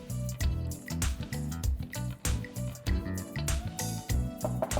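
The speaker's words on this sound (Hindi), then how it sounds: "और सब चीज़ों को मिक्स कर लेंगे।" A thick paneer tikka coating of roasted gram flour, spices, salt and oil being stirred together, with wet squelching and dragging mixing sounds in irregular strokes, close and moderately loud.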